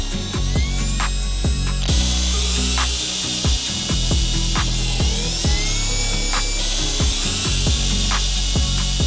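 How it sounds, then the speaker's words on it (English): A drill bores pilot holes for mounting brackets on a Corvette C8 Z06 part, giving a steady high whine over a run of sharp rhythmic ticks that stays close and loud throughout. "we'll start to fit our brackets and then get our pilot holes drilled for the mounting pieces"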